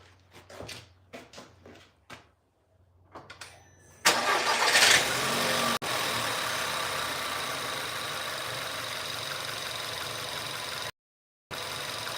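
A 2009 Volkswagen Golf engine cranks and starts after a few handling noises, then settles into a steady, smooth idle that runs on, with a brief break near the end.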